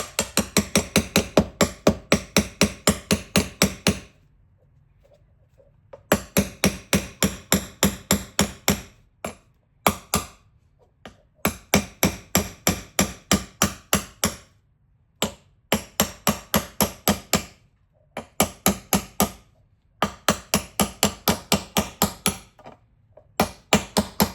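A small hammer taps a bearing into place during car suspension work on an MK4, striking in rapid, even bursts of sharp metallic knocks separated by short pauses, close and loud.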